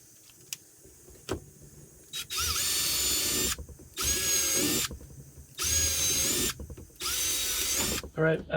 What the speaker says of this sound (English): So I'm going to mark it and then do a pre-drill